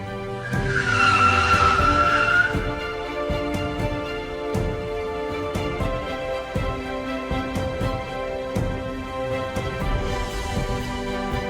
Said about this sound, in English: Sure enough, 3 CIA cars were approaching from either direction.